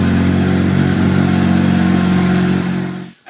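A Porsche 997.2 GT3 with an Inconel exhaust revs hard and loud up close, a dense rasping howl holding steady before cutting off abruptly.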